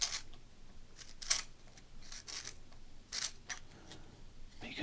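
Quiet, close scraping of a Miami Dolphins pencil being turned in a sharpener, several short rasping bursts separated by brief pauses against a soft background.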